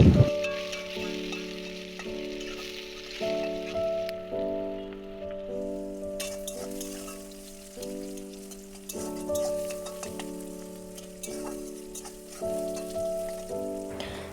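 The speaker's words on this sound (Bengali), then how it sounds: "আমি এর মধ্যে কিছু পেঁয়াজ দিয়ে ভেজে নেব ভালো করে ভেজে মানে একটু লাল করে ভাজতে হবে" Onions frying in oil in a pan for a home-style country chicken curry, a steady soft sizzle heard under a louder backing tune with sustained tones.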